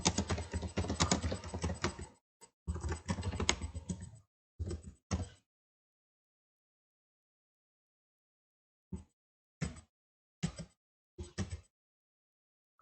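Someone types a name on a computer keyboard in a quiet room: a dense run of key clicks, then shorter bursts, then a few spaced single taps after a pause.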